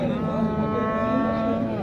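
A cow at the Tiruppur cattle market lets out a loud, sustained, close moo that fills the whole moment with a steady droning tone.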